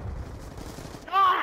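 Shotgun fire in a video game shootout: low, muffled blasts followed by a short, brighter ringing burst near the end, all fairly faint.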